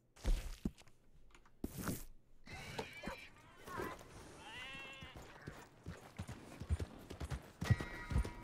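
Horse hooves clip-clop in the Western open-world game Red Dead Redemption 2, a quiet uneven series of hoof strikes with occasional animal bleats and whinnies and brief talk in between.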